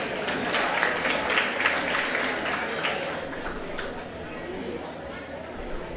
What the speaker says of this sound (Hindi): आप लोग तालियों में कंजूसी न करें।